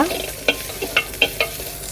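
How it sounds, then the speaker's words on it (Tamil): Small shallots and green pepper sizzling in a clay pot over a village wood fire, with a handful of sharp scraping stirs in a quick, uneven rhythm over the steady frying hiss, close by, with no one talking. "இப்போ அதே சட்டியில் கொஞ்சமாக சின்ன வெங்காயம் பச்சை மிளகு இதை போட்டு நல்லா கிண்டிக்கோங்க"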